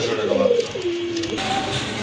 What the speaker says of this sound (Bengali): আরেক জোড়া কবুতর খুবই সুন্দর